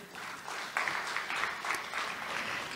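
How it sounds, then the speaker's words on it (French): An audience at a retreat claps steadily, a continuous rattle of many hands that swells slightly after the start and holds at a moderate, even level. "Applaudissez pour vous-même."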